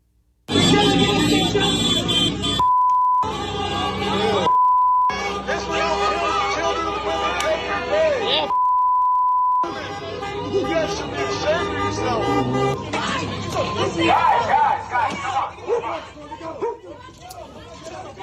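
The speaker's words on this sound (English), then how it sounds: "I'm not sure what you could discern through the beeping" Agitated street voices and shouting on a radio broadcast are repeatedly cut by long, loud censor beeps that drop the sound out, with traffic noise behind.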